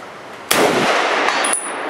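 A single loud .30-06 shot from an M1 Garand rifle cracks sharply and rings out, followed by a brief metallic ping, heard close and alone.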